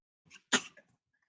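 A single sharp sneeze bursts out close by in a quiet room, preceded by a faint breathy intake and followed by a brief small vocal sound.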